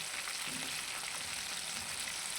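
KFC-style chicken wings fry in hot oil, giving a continuous soft hiss of bubbling fat that stays even and fairly quiet throughout.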